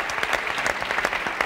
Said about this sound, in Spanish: I un aplaudiment per la Cristina